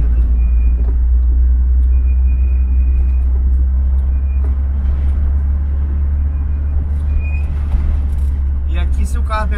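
A car driving along a seaside road between Flecheiras and Fortaleza makes a loud, constant low road-and-engine rumble from inside the cabin, with faint voices in the background.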